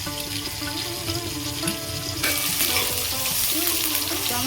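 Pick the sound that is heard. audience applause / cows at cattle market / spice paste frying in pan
spice paste frying in pan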